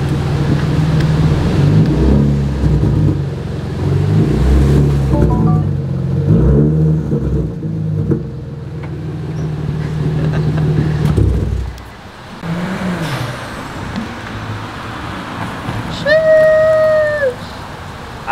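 Straight-piped BMW 335i exhaust, loud and rumbling up close with a burst of revving and throttle pulses, then dropping off before a lighter passage with a high squeak near the end.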